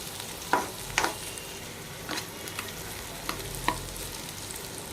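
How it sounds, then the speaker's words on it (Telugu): Tamarind is stirred in a hot frying pan with a steady sizzle, while a spoon scrapes and knocks against the pan every second or so, close and clear, with no talking. "ఈ చింతపండు కొంచెం సాఫ్ట్ అవ్వాలి, సో అప్పటి వరకు మనం కొంచెం ఈ విధంగా తిప్పుతూ ఉండాలండి"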